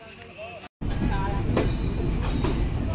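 The Kapotaksha intercity express pulls into Azimnagar railway station, its loud, steady rolling rumble and wheel clatter filling the air after a brief cutout, with faint squeals over the roar.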